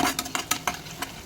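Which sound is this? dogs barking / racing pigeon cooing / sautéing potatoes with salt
sautéing potatoes with salt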